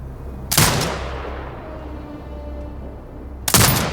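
Turret firing in the video game Sniper Ghost Warrior Contracts 2: two loud, booming gunshots about three seconds apart, each with a long rumbling tail that fades out, and no talking.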